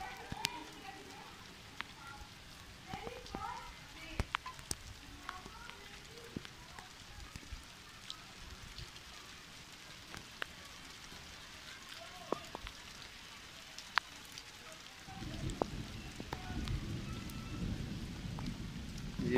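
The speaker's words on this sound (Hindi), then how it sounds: "बारिश हो रही है।" Heavy rain falling over a village, a soft continuous hiss with scattered drops and faint crackles, swelling into a louder downpour toward the end, with low rumbles of thunder and a voice talking quietly in the background.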